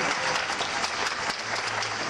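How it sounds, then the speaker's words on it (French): An audience at a fair quiz show claps in a dense, steady burst of applause filling the whole moment, close and even, with faint voices underneath. "Michael, allez, on applaudit Michael."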